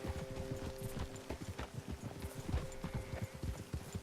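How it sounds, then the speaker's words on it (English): Horse hooves clip-clop at a steady walking rhythm in the video game Red Dead Redemption 2, with continuous close thuds and a faint background hum throughout. "el caballo de Dutch es increíblemente blanco."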